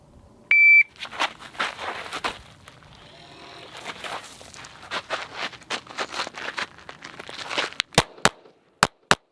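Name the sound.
shot timer start buzzer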